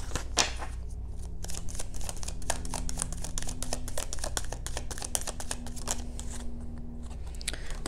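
Cards from a Kipper deck riffle and slap together in a steady, rapid run of crisp flutters, close and fairly loud, with no talking.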